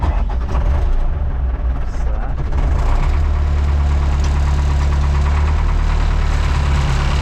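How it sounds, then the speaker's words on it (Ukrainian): A tractor engine used for ploughing a field catches and settles into a loud, steady low idle with a knocking throb, while someone talks over it at first. "Давайте зараз покажу, як він заводиться у нас гарненько."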